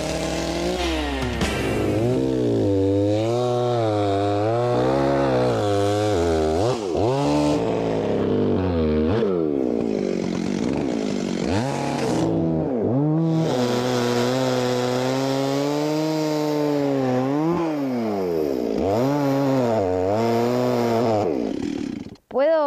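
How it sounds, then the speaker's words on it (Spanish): A chainsaw cutting firewood logs outdoors, its engine revving and bogging in long rising and falling waves as the chain bites through wood, loud and close, running almost continuously before cutting off abruptly at the end. "Sí, cortamos la motosierra primero. Después el hacha."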